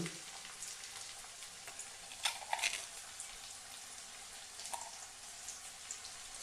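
Chopped tomato with salt frying in a hot pan, a steady soft crackling sizzle throughout with a few brief louder spits and clinks near the middle.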